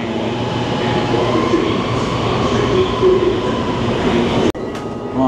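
An LRT light-rail train running, a steady close rumble of wheels and motor with faint squeal, continuous throughout, with a sharp brief click near the end.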